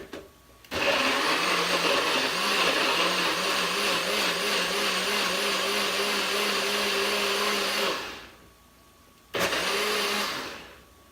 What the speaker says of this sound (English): I'm going to close the jar and grind it.